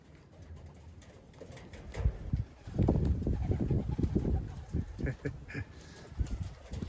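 Young pigeons fly around a loft, cooing with bursts of wing flutter that come irregularly and fairly close, louder through the middle, over a faint background with no talk.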